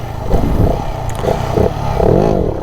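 Stunt motorcycle revving hard as its front wheel lifts into a wheelie, engine note rising and falling in loud surges with some clatter, steady throughout.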